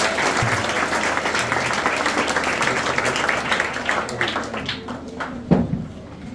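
Congregation clapping in church during a wedding service: steady, full applause from many hands that thins out near the end, with a few louder claps and faint voices beneath.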